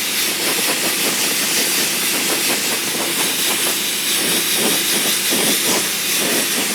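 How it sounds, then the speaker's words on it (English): Transparent black spray paint misted on lightly and fairly dry onto a 1/6-scale vinyl figure kit, a steady close airy hiss running without break. "Just gonna mist it on real light until I get the shade I want."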